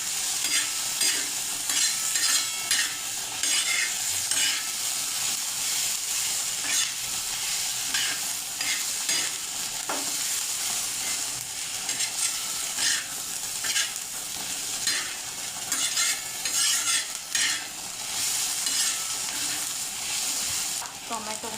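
Onion, ginger and garlic fry in a pan while being stirred, making a steady hiss of sizzling oil broken by scattered scraping and clinking of the spoon against the pan.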